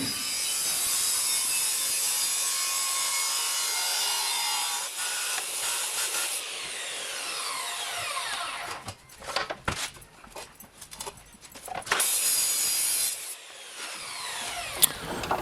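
A worn saw blade labours through 3-inch steel exhaust pipe while building a custom muffler, giving a steady rasping cut that breaks into choppy, uneven strokes and squeals in the second half, with no talking.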